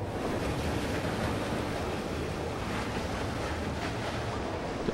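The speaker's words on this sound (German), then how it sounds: "Dann wird jetzt hier Wasser reingepumpt." Water rushes in steadily from pumps in the side-scrolling game Limbo, a dense, even roar like surf that holds at the same level throughout without a break.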